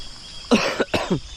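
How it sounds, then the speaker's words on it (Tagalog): Two sharp, close coughs in quick succession, loud and rough, with brief silence before and between them. "Inuubo mga kautol."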